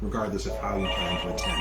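A mobile phone rings during a live town government broadcast, a repeating electronic ringtone sounding under a man's steady speech, moderately loud and close.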